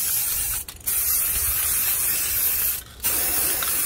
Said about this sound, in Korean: 파란색 스프레이로 칠을 해주세요.